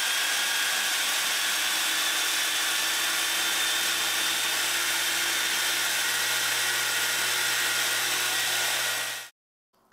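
A repaired power tool motor, fitted with new carbon brushes and fed from an isolation transformer at about 110 volts, runs with a loud, steady whirring roar for about nine seconds before cutting off abruptly to silence.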